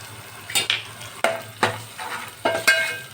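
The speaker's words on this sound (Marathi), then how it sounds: "हे बघा बेडगी मिरची कट करून घालूया" Cut Byadgi chillies fry in hot tempering oil, with sharp bursts of crackle and spatter arriving in quick uneven clusters over a low, continuous sizzle, close and fairly loud.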